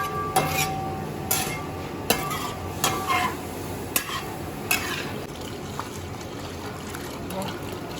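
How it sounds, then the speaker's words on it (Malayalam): Vermicelli (semiya) roasting in a pan, stirred with repeated scraping and clinking strokes against the metal over a continuous low sizzle, close and moderately loud, with no talk. "അപ്പം ഒരടുപ്പിൽ നമ്മുടെ സേമിയ വറുത്തുകൊണ്ടിരിക്കുക."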